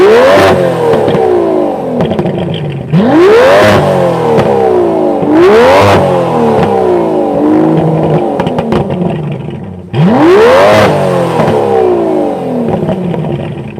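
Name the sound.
supercar engine revving from exhaust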